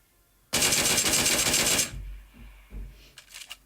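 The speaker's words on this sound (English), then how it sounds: "Snow was just firing shots at Frankie" A single sustained burst of automatic gunfire in the battle royale game PUBG, loud and close for over a second, followed by quieter thuds and faint scattered sounds.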